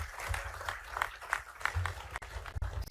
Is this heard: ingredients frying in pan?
no